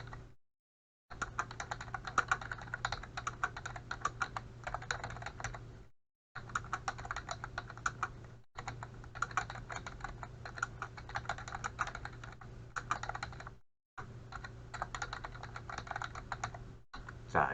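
Quick typing on a computer keyboard during a word-processor lesson, dense rapid key clicks in several long bursts broken by short silent gaps, close and moderately loud.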